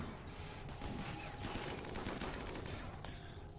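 Rapid gunfire rattles through a battle in the colony game RimWorld Alpha 15, dense overlapping bursts like a fusillade sustained at steady loudness throughout.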